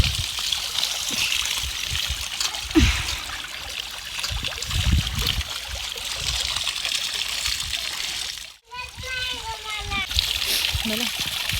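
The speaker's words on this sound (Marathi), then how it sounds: "मस्त स्वच्छ पाण्याने भाजी धुवून घेतोय" Wild grass greens are washed outdoors near a field in clean water, with splashing, trickling and sloshing under near-constant talk that includes a voice.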